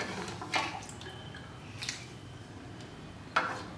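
Sugar water is worked little by little into a semolina and flour thekua dough, giving a few soft, wet squelches and drips at intervals over quiet kitchen noise.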